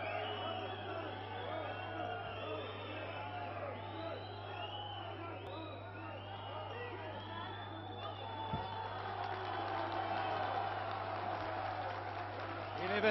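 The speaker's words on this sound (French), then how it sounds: "Et les vainqueurs sont applaudis." Crowd at a French professional wrestling match applauding the winners, a steady wash of clapping and chatter at moderate distance that swells slightly toward the end, with a low constant hum underneath.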